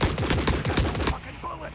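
Rapid automatic gunfire in The Forever Winter game, a dense burst of regular sharp shots for about a second that cuts off abruptly, leaving a quieter tail with faint background noise.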